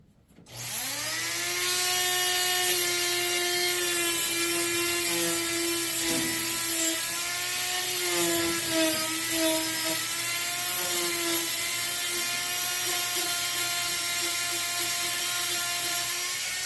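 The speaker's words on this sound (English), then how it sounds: "We're going to use our little flex tool attachment on the Dremel." A Dremel rotary tool on a flex-shaft attachment spins up and holds a steady high whine while deburring a metal hood strut part for a 1971 Colt Galant, with its pitch dipping slightly under load at moments, close and loud with no talk.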